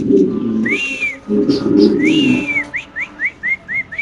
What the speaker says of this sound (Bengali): এখানে আছে অ্যান্দোনেশিয়ান একটা রেসার কবুতর